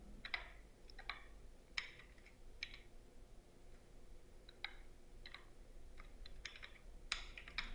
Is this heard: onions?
no